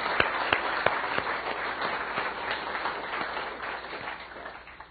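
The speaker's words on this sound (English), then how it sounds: "give a big round of applause to my parents for being there." An indoor lecture audience applauds steadily for several seconds, a dense crowd of claps that gradually fades toward the end.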